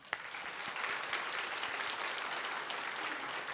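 A church congregation gives a warm, sustained round of applause during a Sunday service, the clapping dense and even from start to finish after one sharp opening clap.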